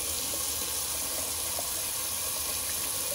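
Cold water running steadily from a tap into a bathroom sink for a rinse after a wet shave, a constant close rushing splash with no talking.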